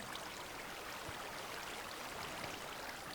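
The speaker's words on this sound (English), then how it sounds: "very loud rushing water, that is." Steady rushing water in a large Minecraft cave hisses continuously at a low, even level, with no voices or other sounds breaking through.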